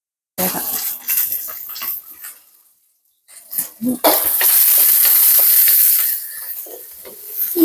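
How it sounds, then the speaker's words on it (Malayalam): Green chilies and curry leaves sputter in a pan in loud bursts of sizzling and stirring scrapes, broken by a short quiet gap before a strong sustained hiss returns. "2 മിനിറ്റ് ഒന്ന് ഇളക്കി കൊടുക്കുക"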